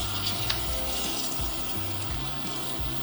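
Wagyu osso buco sears in hot oil in a pan, a steady close sizzle and spatter with low rumbling undertones as the meat is shifted around.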